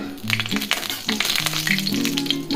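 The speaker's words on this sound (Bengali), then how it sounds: "পাঁচফোড়নটা যাতে পুড়ে না যায় সেরকম করে ভেজে নিতে হবে।" Panch phoron whole spices frying in oil in a pan while being stirred for a soybean curry, a crackling sizzle with sharp pops, heard close up under soft background music.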